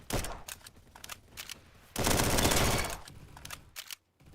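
A MAC-10 submachine gun in Roblox Bad Business fires rapid bursts, with a sustained loud stream of shots in the middle before a short pause and a final quick burst, no voices present.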